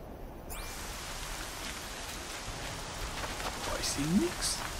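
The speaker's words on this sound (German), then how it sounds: "Es regnet ja, in Strömen." Steady broadband hiss of heavy rainfall in the video game Horizon Zero Dawn, constant and enveloping, with a faint tonal chirp near the start and a brief low murmur toward the end.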